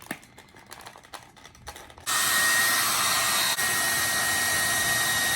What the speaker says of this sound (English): blow dryer, completely necessary because you're not gonna be able to do without